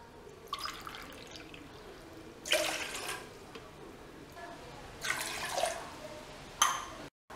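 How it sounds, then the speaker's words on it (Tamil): Three separate glasses of water are poured into a cooking pan while turmeric rice is made, each pour a splashing rush that lasts about a second, with quiet pauses between them. "நம்ம 3 கிளாஸ் தண்ணி விட்டுக்கலாம்."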